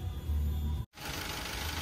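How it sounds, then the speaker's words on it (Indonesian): A Daihatsu Terios engine idles after repair with a steady, even mid-pitched hum, broken by a brief cut in sound before the idle resumes unchanged. "ini suara mesin alhamdulillah sudah normal"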